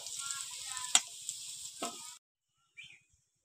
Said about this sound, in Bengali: আলুগুলো ভাজা হয়ে গিয়েছে,